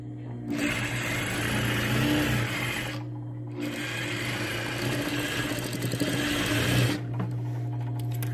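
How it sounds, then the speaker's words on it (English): Sewing machine stitching quilt strips: two long runs of fast, steady motor whir and needle chatter, close and fairly quiet, separated by a short pause, with a constant low hum throughout. "And we'll stitch all the way down."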